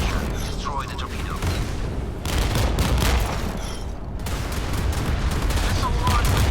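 A rocket launcher fires at an incoming torpedo during a naval battle in the Modern Warships game, producing dense, loud bursts of rapid weapon fire and booms that run continuously with a brief dip around the middle.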